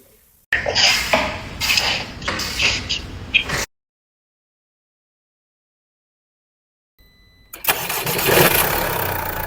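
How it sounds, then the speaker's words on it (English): A Mercedes-Benz engine cranks and runs roughly after a timing chain replacement, cuts to silence, then starts again and settles into a steady running hum. "engine runs perfectly"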